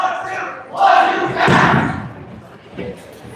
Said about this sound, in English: Sabrecats are doing their little cheer with a lot of curse words.